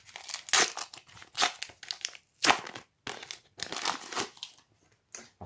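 Crinkly paper packaging of a LEGO Ninjago booster pack is torn and crumpled up close, several quiet bursts of crackling and ripping with short pauses between them.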